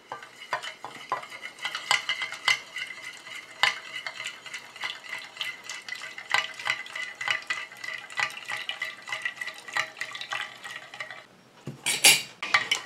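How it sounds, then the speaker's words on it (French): Steady scraping and clinking of a utensil stirring a homemade sunscreen cream emulsion in a pot, continuous and close, with a sharper burst near the end; no talking. "Je continue à mélanger comme ça jusqu'à ce que mon émulsion épaississe"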